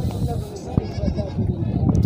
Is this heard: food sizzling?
no